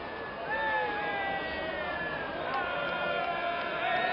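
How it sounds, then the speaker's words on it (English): Welsh supporters shouting and cheering at a crown green bowls match, a steady mass of distant crowd voices held under continuous talk. "You can hear the Welsh lads who's shouting their heads off"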